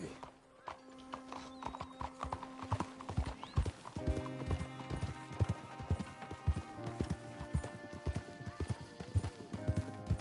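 Horse hooves clip-clop at a steady gait nearby in Red Dead Redemption 2, with a whinny early on and a sustained musical tone running underneath.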